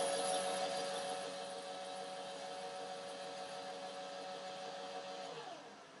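An electronic powder dispenser runs while measuring a 29.6 load for .375 H&H rifle reloading, giving a steady motorized whir with a faint tonal hum that fades slightly near the end.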